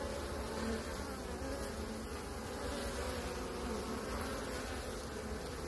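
Honeybees swarm around an opened hive during a visual colony check, a dense, continuous close-up buzz that holds steady throughout with no voices.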